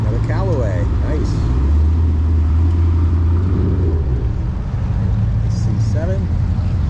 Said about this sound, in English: So we got a nice CR1 and another C8, a bunch of C8s actually, all headed in.